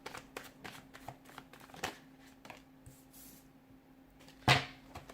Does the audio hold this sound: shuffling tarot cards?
yes